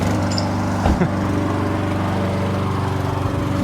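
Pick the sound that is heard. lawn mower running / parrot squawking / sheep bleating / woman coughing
lawn mower running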